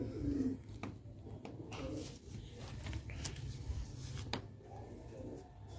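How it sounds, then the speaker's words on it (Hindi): Sialkoti black-faced pigeons coo in soft, repeated low bursts close by, with faint rustles and light knocks in between. "सियालकोटी काले मूंह वाले कबूतर नया हालत पंजे जी है दोस्तों"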